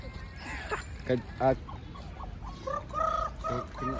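Chickens cluck in short bursts, with a few louder calls between them, while people talk close by.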